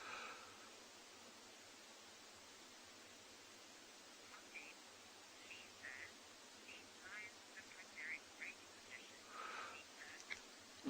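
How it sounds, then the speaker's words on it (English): Guinea fowl giving faint, scattered distress calls far off in the bush at sunrise, thin repeated cackles rising over a quiet, hissy outdoor background. "We hear some guinea fowl distress calling further up on a distance"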